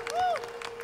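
Concert crowd at a live 2004 pop concert applauds the backing musicians, a short burst of clapping and cheering with a sustained sung or whistled tone gliding through it.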